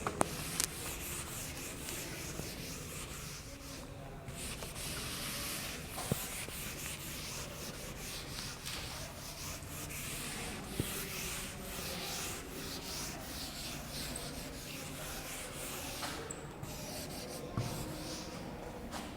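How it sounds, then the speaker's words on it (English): Writing being erased from a classroom board during an English lesson, a long continuous rubbing and scrubbing with steady strokes, close and fairly even in loudness, with no speech. "And now I am going to erase this."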